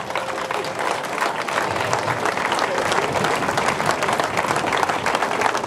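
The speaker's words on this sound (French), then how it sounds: "Est-ce qu'on peut applaudir très très fort pour ces hommages dignes" Mourners at a funeral wake for Maman Bolingo give the artist a sustained, dense round of applause that holds steady and loud throughout, a full crowd clapping with faint crowd noise mixed in.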